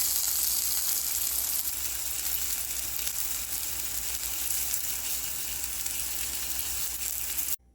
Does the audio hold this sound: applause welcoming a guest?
no